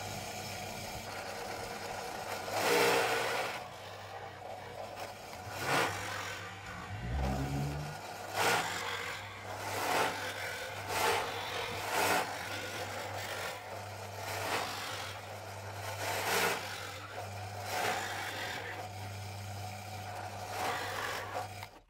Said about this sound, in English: I'll drill in each one of these and I'll put a big dowel through each of them